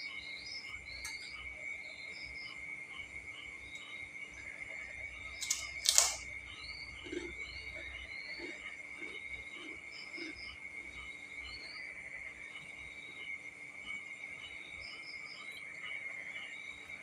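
Crickets chirp in a steady, high, continuous trill through the whole stretch. A few sharper chirps and soft clicks sit on top, and a brief louder knock lands near the middle.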